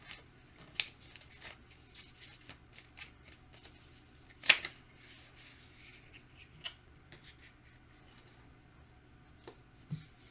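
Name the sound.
handling and shuffling astrology cards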